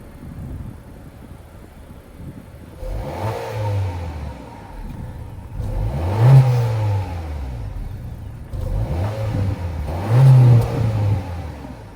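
A 2024 Honda Civic Touring with a 1.5-liter turbocharged four-cylinder and dual exhaust revs up from idle in three rising bursts, each falling back again. The engine is close and loud, with no talking.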